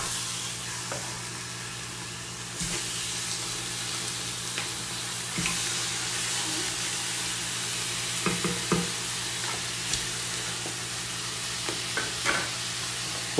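Pigeon and onions fry in a pot with a continuous bright sizzle, and a spoon stirs them in a few scraping clatters scattered throughout.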